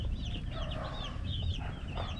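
A crowd of 45-day-old chicks clucks and peeps without pause, with overlapping high chirps over a low background rumble.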